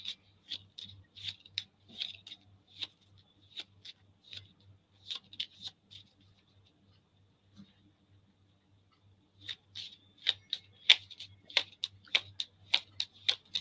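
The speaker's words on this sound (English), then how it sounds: "And while Scott is shuffling cards" Tarot cards are shuffled by hand at close range, producing sharp, light clicks and taps. The clicks come in two busy bursts separated by a quieter pause, with a faint low hum underneath.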